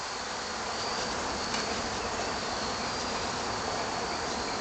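Honeybees buzz steadily at the nest, one worker fanning its wings, a dense continuous hum close by with no break.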